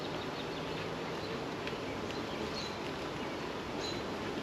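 Honey bees buzzing as a steady, dense drone while being moved from a nuc into a hive, the hum constant and close throughout with no talking.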